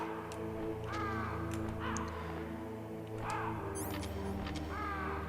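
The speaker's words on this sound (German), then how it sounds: "hier sind noch immer überall Raben." Ravens caw repeatedly in the video game Metal Gear Solid, several harsh calls spaced a second or so apart over a constant low droning game ambience, with no talk.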